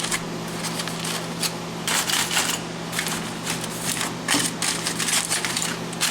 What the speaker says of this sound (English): let's go ahead and unwrap this bad boy right here